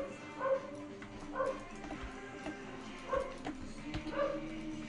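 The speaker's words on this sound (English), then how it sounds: "I can hear my dogs getting excited about something." Several dogs bark and yip excitedly in short bursts, spaced roughly a second apart, somewhat distant against a steady low background.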